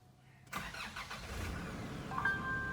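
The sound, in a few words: Nissan Terra engine starting via push-button start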